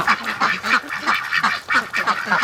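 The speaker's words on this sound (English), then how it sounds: "Three ducks stuck underneath there." Several Muscovy ducks honk and quack repeatedly at close range, their calls overlapping in a busy, rhythmic chorus.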